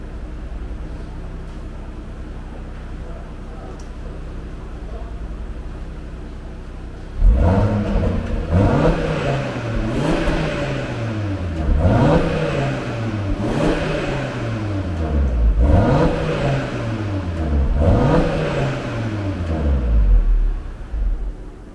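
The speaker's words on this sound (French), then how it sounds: "je vais ouvrir les valves, je vais faire 3 accélérations histoire de voir le bruit" An Audi RSQ3 with stock exhaust and valves open revs several times after a quiet idle, each blip rising and falling in pitch, loud and near, with no talking.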